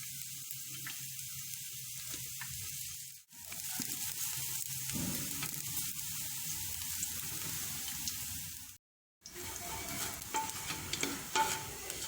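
Chopped garlic frying in hot oil for garlic fried noodles, a steady close sizzle and hiss with occasional stirring scrapes, broken by two brief gaps of silence.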